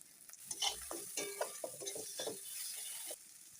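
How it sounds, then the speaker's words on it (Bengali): Onions frying in a pan with chopped tomato, grated garlic, salt, turmeric and coriander powder, heard as a soft close sizzle with repeated scraping stirs, no voices. "পেঁয়াজগুলো হালকা করে ভেজে নেব।"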